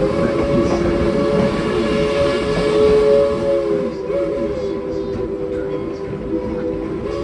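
A Tweetsie Railroad train rolls steadily along the track, its whistle sounding in a sustained, wavering tone over the continuous rumble of wheels and cars, loud and close with no talking.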